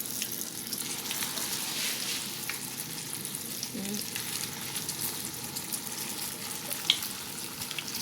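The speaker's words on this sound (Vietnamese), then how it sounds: "Dầu mình nó càng nóng thì mình chiên cái miếng tàu hũ ki của mình nó sẽ càng phì lên nha các bạn." Tofu skin coated in fermented bean curd fries in hot oil with a steady, dense sizzle and crackle that runs the whole time, close and even, with one sharp pop near the end.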